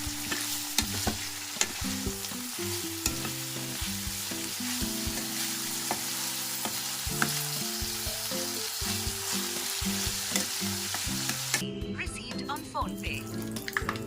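Tempering spices (cumin, mustard seeds and dried red chillies) fry in about two spoons of hot oil with a loud, continuous crackling sizzle and scattered pops, then a spoon stirs through and the sound thins near the end.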